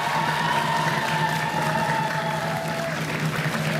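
Steady, dense applause from a school audience for the winning team at a student pottery competition, continuous clapping throughout with a faint hum underneath.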